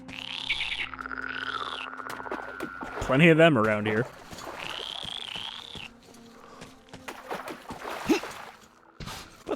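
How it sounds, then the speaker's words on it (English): A toad in the Metro Exodus video game gives a short burst of squeaky, warbling croaks, loud and close, between stretches of someone talking over quieter game ambience. "Oh, that's another toad."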